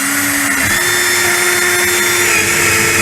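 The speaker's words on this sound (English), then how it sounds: "Again, my Black & Decker drill." A loud, steady motorized whine with a constant pitch runs throughout from a Black & Decker power drill driving a screw into a wall close by.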